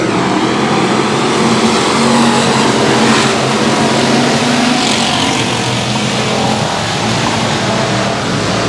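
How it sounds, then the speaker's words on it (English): Dirt track race cars roar down the back straightaway during a heat race at Boothill Speedway, a steady, loud wall of engine noise rising and falling slightly as the pack passes, with no talk over it. "Down the back straightaway, Glenn Perry trying to win the heat race just like his son Bo did in heat one tonight"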